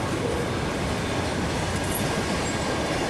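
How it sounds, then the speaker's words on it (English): A southbound train rolls past near Wayne Junction, a loud continuous rumble and roar with faint wheel squeal, steady from start to finish. "This is the second southbound train."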